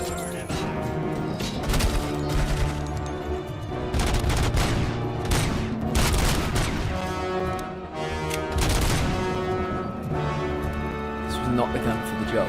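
In the video game RoboCop: Rogue City, loud bursts of gunfire crack out repeatedly, mixed with booms and crashes, while someone talks over parts of the fire.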